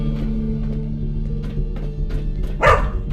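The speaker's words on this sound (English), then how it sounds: "Of course, Draco's still barking." Dog Draco barking in Fallout 4, a few short barks spaced over a steady game hum, with one louder, sharper bark near the end.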